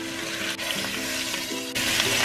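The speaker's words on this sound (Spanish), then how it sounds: "Lo que voy a hacer es freír el pollo para poderlo sellar a ambos lados." Chicken pieces searing in hot oil in a pan, a steady bright sizzle and crackle running throughout, close and even, with a faint metallic clink and a brief surge of spattering near the end.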